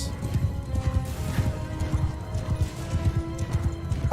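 Horses gallop with rapid, rhythmic hoofbeats in a Mount & Blade II: Bannerlord battle, steady and fairly loud throughout, with a faint whinny and some clatter in the background.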